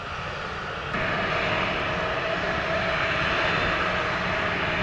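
A Sunwing airliner back-taxis along runway 25 at Montego Bay, its jet engines giving a steady, broad roar that swells a notch after the first second and then holds.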